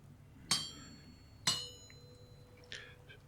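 In the video game Minecraft, a smithing hammer strikes metal, giving two sharp, bright metallic clinks about a second apart. A softer, shorter clink follows, with each strike ringing briefly over quiet background.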